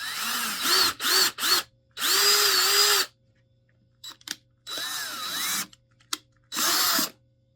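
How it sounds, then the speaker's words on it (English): A power drill bores a single hole in an owl box prototype, sounding in several loud bursts of whirring that rise and fall in pitch, separated by short pauses. "I just need to drill a single hole."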